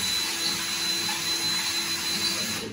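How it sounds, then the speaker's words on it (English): A power drill boring a hole into bathroom drywall for wall anchors, a steady continuous whine and grind held at close range without pause. "So I'm going to make a hole big enough to pop those in."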